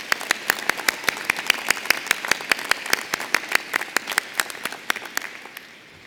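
Steady applause from a crowd at a university commencement ceremony, many hands clapping in a brisk, even rhythm, growing slightly then fading out near the end.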